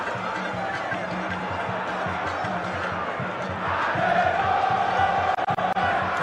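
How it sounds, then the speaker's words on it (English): Football fans in a Ghana Premier League stadium match between Asante Kotoko and Accra Hearts of Oak keep up a continuous crowd roar with rhythmic chanting and drumming, the noise swelling louder partway through. "the fans will keep on cheering both sides on"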